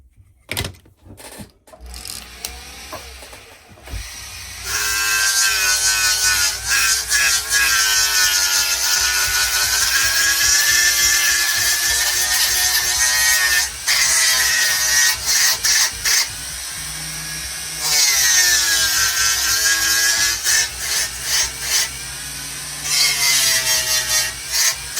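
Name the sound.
fine grit flap wheel refinishing a knife blade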